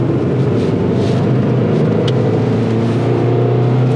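A Dongfeng Fengon 500 engine drones loudly and continuously, its pitch rising and falling as the revs change, heard from inside the vehicle with no talking.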